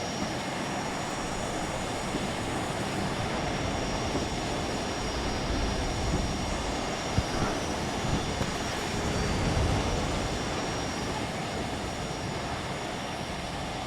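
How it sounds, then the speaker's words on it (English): A B-2 Spirit bomber flies in during WARNO gameplay, a steady, loud engine roar that holds evenly throughout with no voices over it. "Another B2 Spirit bomber coming in."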